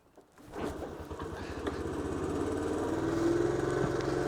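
Honda CT110 motorcycle engine cranking and catching, then settling into a steady, fairly fast idle with a rough mechanical chatter, close by and without talk.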